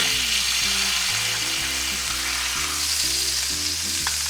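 A marinated ribeye steak sizzles loudly and steadily in a hot pan after being flipped, a dense, continuous frying hiss with no voices.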